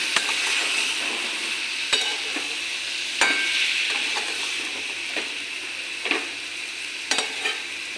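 A spatula scrapes and stirs ridge gourd and pumpkin in a sizzling pan, with sharp clacks every second or so over a steady frying hiss.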